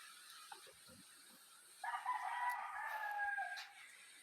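Rooster crows once, loud and fairly close, after a few soft clucks from chickens at a rural home, with quiet surroundings and no talk.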